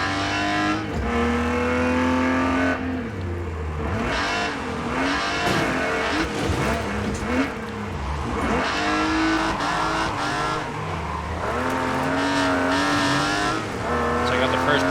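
Car engines racing in the video game Wreckfest 2, with a loud continuous roar of several engines rising and falling in pitch through gear changes, plus brief tire squeals, and speech heard over the racing.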